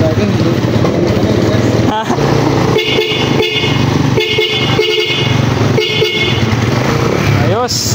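Repeated short honks from a stock motorcycle horn in quick bursts over a steady engine rumble, with some talking in the background.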